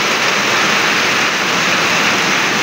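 Rain and running water rush toward a drain in a loud, dense, unbroken hiss of flowing water and rainfall, close and constant with no voices.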